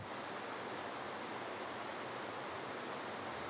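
Water from individually controlled fountain nozzles circulates in a mobile pool, about 300 cubic meters per hour, giving a steady, dense rushing and splashing wash throughout, fairly faint and without talk.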